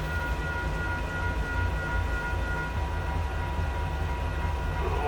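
CN freight train 730 starts to depart after meeting another train, a steady low rumble of rail cars and locomotive with faint tonal whine, heard alone without talk.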